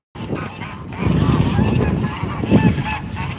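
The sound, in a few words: geese honking during a goose fight at a lake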